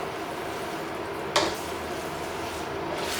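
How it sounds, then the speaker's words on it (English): Pasta tossed and stirred through hot cream in a pan for a creamy alfredo with sausage, ham and chicken: a steady close sizzle and bubbling, broken once midway by a sharp utensil clank against the pan, with no talking. "Then I'm gonna toss the pasta in here, in this cream first."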